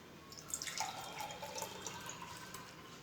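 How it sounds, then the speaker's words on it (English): Homemade pink Holi color extract dripping through a sieve, a quiet, quick patter of small drips and trickles, with no talking. "Sieve this extract"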